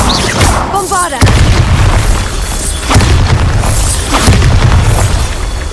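Bombarda blasting spell in Hogwarts Legacy, a series of heavy booming explosions with rumbling tails, roughly four blasts spread across the stretch, loud and close amid game effects and a voice.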